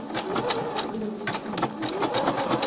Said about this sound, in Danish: Og så syr vi stræksømmen